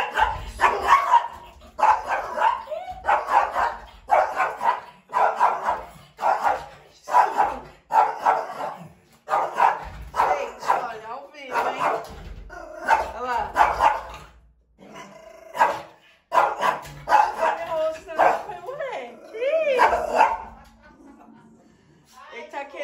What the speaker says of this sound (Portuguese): Nossa, cachorro doido.